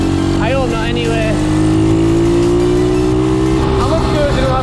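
A pit bike engine revs loudly and continuously on a country road, a steady droning whine rising slightly in pitch, with someone talking over it near the start and again near the end.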